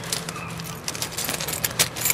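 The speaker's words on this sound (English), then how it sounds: "Pull the same set of keys out." A set of keys jangles and clinks near an '84 Chevrolet pickup truck, with bright metallic rattles and a few sharper taps across about two seconds and no talk.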